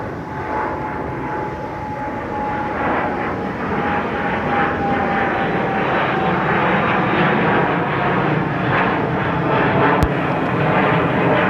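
An airliner roars steadily down runway 34 right at Seattle-Tacoma International Airport on takeoff, a loud, broad and continuous engine noise with no voices over it.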